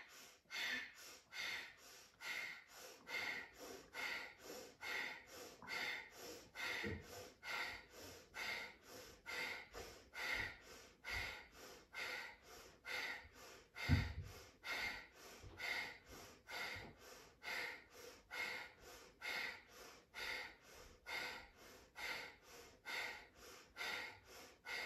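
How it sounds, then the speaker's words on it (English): Yoga breath of fire: rapid, forceful nasal exhales and inhales pulse in a steady, even rhythm for about twenty-five seconds, close and alone with no talking. "Forceful exhale, forceful inhale."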